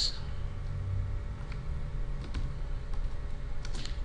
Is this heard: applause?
no